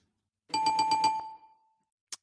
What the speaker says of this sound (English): You can ring the bell.